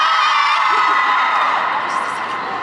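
A festival stage crowd at TokFEST 2021 screams and cheers loudly in a sustained, dense roar that fades slightly toward the end.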